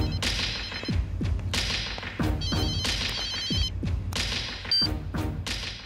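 A telephone rings in bursts of bright repeated tones, mixed with heavy thumps and sharp whip-like cracks from a Hindi-dubbed action film, with no talking.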